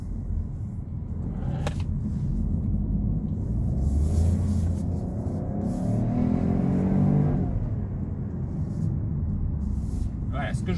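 A Peugeot 408 PureTech 130 petrol engine accelerating, a steady, fairly loud engine drone that rises in pitch midway, with tyre and road rumble underneath and talk over it.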